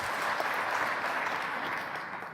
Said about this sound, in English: Now please clap if the right image is fake